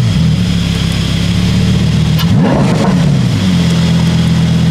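Car with a stock exhaust at a meet alongside a McLaren and a Nissan R35 GT-R, idling steadily, then a quick rev swelling and dropping back, loud and close with no talk.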